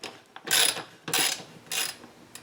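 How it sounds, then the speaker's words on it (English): TEKTON 3/8 inch drive ratchet tightening a short bolt, three loud bursts of rapid clicking close up with short pauses between them and no talk. "So for a fastener like this one that's not tall, it's very easy to go ahead and tighten that up."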